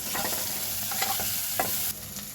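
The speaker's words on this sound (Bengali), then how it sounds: "আদা বাটাটা দিয়ে ভালো করে কষিয়ে একটু ভালো করে কষিয়ে নিতে হবে" Ginger paste is stir-fried in a pan over a steady sizzle, with several distinct scraping stir strokes and no talking.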